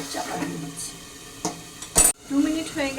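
Chicken curry being stirred in a pot, a spoon scraping and clinking against the metal with a sharper clank midway, close and moderately loud.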